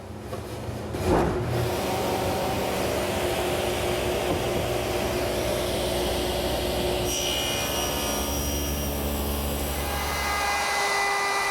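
Power saw trimming about an eighth of an inch off the end of a teak board for a bar counter, a steady high whining buzz running the whole time with a brief sharper bite near the start and no voices.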